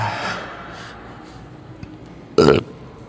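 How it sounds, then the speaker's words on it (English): A loud, short burp erupts near the end, standing out over a quiet room hum after faint earlier noise; the person is on a cutting diet and loading up on carbs during a chest-day gym workout. "I never said the carbs wouldn't make you burp"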